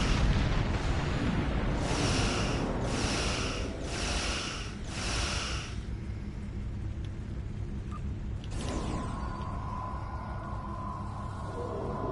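Torpedo explosion in the space game Star Trek Online, a rumbling boom followed by a series of bright blasts in quick succession, then a sharp crack and a lingering tone, loud with no talk.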